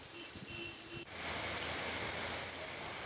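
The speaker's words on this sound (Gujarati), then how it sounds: "જુનાગઢ શહેરમાં સતત બીજા દિવસે પણ વરસાદ યથાવત છે" Rain suddenly intensifies into a steady, dense downpour drumming on surfaces, loud and continuous after a brief quieter start with faint tones.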